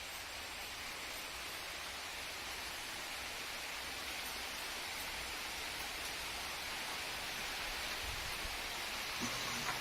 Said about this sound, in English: It was raining as Rachel filmed